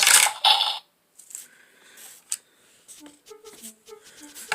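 A quick rattling clatter of small plastic toy boxes tumbling down a Take Along Thomas playset chute, then lighter knocks and soft toy tones.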